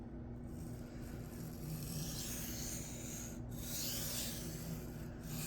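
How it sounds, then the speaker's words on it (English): A Cold Steel Kudu knife drawn across a freshly flattened Shapton Glass 220 stone, a faint, steady gritty rubbing with repeated strokes and brief pauses, no voices. "Oh, it's so nice sharpening on a freshly flattened stone"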